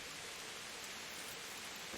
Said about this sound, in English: Man, it is raining like a shitstorm here.